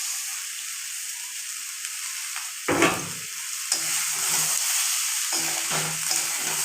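Lentils go into a hot pan for vegetarian khichuri with vegetables. A steady sizzle and hiss of frying runs throughout, with brief louder stirring scrapes and bursts of crackle.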